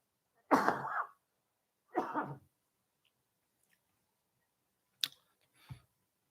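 A man with a cold coughs twice during an Easter church sermon, two hoarse, close bursts a second or so apart, followed by quiet clicks and a short throat sound.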